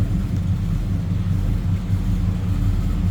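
A 1970 Oldsmobile Cutlass Supreme convertible's V8 with headers idles in a low, steady rumble at close range, deep and even, with no voices.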